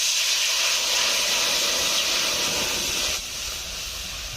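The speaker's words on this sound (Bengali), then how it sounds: "কড়াইতে দিয়ে দিচ্ছি জল," Water poured into a hot pan hisses as loud, steady steam, holding strongly for about three seconds before easing slightly and continuing.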